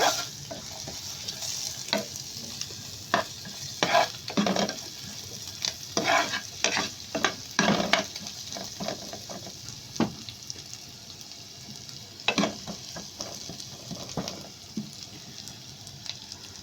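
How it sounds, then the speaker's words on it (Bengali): Carrots fry lightly in a pan for vegetable fried rice, a soft, low sizzle under frequent sharp spatula clicks and scrapes that come in irregular clusters. "গাজরটাকে আমি একটু হালকা করে ভেজে নিব"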